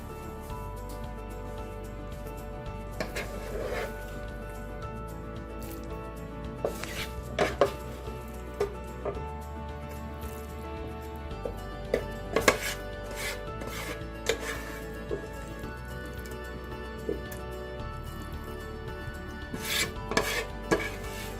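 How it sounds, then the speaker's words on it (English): A utensil scrapes the sides and bottom of a pan of dry red chilli beef masala with red potatoes, giving repeated rasping strokes and occasional sharper knocks against the metal over a steady background hum, with no voices. "Just scrape the sides and the bottom of the pan, and we're ready to serve."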